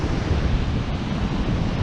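Rough ocean surf on the coast at Moruya, South Coast NSW, a dense continuous wash of breaking waves mixed with wind buffeting the microphone, steady and close.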